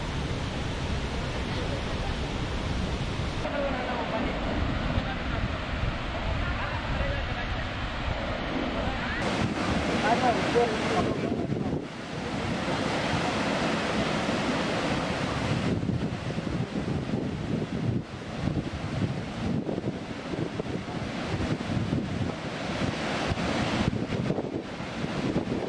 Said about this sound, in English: It's really awesome, the sound which the waterfalls make.